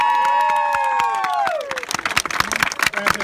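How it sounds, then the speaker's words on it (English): Wedding guests break into clapping and cheering right after the kiss, the applause swelling from sparse claps into a loud, busy burst of hands and shouts. "You can clap."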